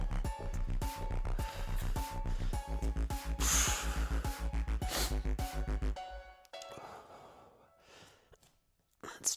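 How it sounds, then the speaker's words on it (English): Sniffling during a follow-along abs, butt and legs squeeze workout: music plays first, then a few close breathy nasal sniffs and exhales come through once it drops away. "Excuse my sniffling"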